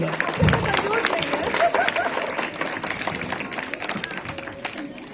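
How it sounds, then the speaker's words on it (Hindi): A crowd at a Republic Day celebration claps steadily, a dense patter of applause filling the space, with voices mixed in. "ताली जोर से बजाओ अक्षय सर के लिए"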